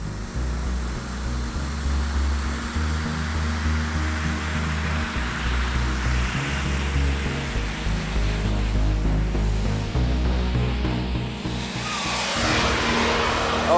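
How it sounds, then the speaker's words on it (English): A real jet turbine in a giant model F-18 runs up, a steady broadband roar over a low engine rumble that swells in pitch and intensity toward the end. "I'm going to start the engine."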